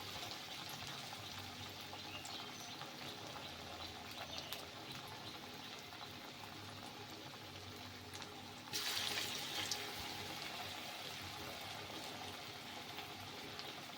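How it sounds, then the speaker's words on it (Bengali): Drumstick flower pakoras frying in hot refined oil, a faint, steady bubbling hiss that swells briefly midway as more batter goes in, with no voices. "তেলটা গরম হয়ে গেছে এবার এক একটা করে আমি পাকোড়া এর মধ্যে দিয়ে দেবো"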